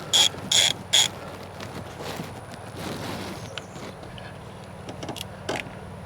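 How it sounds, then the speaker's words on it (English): A hand ratchet with a 10mm socket loosens the nut on an RV battery post, giving three quick sharp clicking bursts up close and then quieter handling rattles and taps. "it is of course on a battery post, the elusive 10mm socket. So we'll just take that off."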